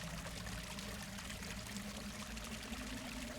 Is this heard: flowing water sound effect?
yes